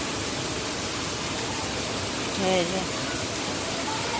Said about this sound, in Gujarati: હવે બંધ રહેવાનું નામ નથી લેતો વરસાદ